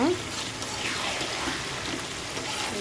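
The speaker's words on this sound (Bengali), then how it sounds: "এখন আমি জলটা দিয়ে দিব।" Water pours into goat meat being browned for khashir mangsho, a steady splashing gush under a faint voice.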